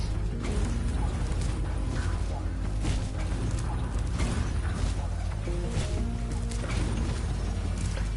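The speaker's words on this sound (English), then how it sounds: "The switch to turn off the gear grinder factory is in that room, but, it's awfully noisy in there." Gear grinder factory machinery in Spyro Reignited, a loud continuous mechanical churn with rhythmic clanks and creaking metal running throughout.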